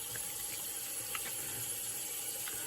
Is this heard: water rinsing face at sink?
yes